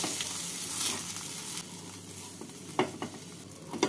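Rice frying in hot ghee in a wok: a continuous close sizzle with soft crackle, punctuated by a few sharp scraping stirs toward the end.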